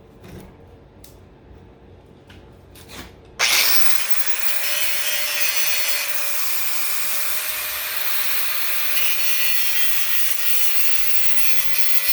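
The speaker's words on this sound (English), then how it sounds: "Let me get my grinder here." A grinder bites into a piece of aluminum and copper scrap with a sudden loud start, then keeps up a steady, harsh whine that levels off slightly and holds to the end.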